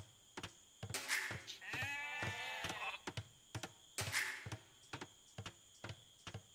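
A sheep gives a loud, wavering bleat up close, set among steady rhythmic ticking and tapping sounds.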